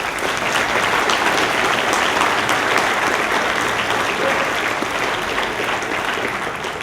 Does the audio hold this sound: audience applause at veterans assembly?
yes